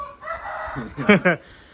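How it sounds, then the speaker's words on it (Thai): A rooster crows at a wild-fowl decoy camp in Maha Sarakham, Thailand, a single short, close and loud crow with clucking tones, in a quiet rural setting. "ครับมันเสียงไก่พี่น้อง"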